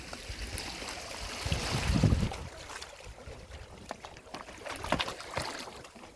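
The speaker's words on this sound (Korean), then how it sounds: "자 파도 소리만 좀 찍다가 마무리하겠습니다" Waves wash and surge steadily at Gadeokdo at sunset, rising into a fuller rush partway through, with wind buffeting the microphone.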